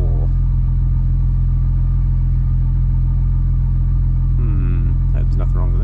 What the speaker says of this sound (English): I don't think the idle sounds as smooth as it did before.